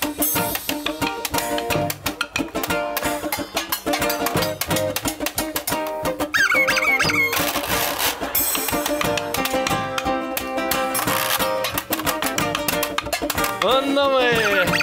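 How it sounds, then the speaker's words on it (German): A washboard solo scrapes and rattles through dense, loud German band music, its bright, gritty strokes driving steadily over the full ensemble. "Und Waschbrett-Solo."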